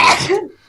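A single short sneeze bursts out close and loud, then trails off quickly into quiet during an online group meeting.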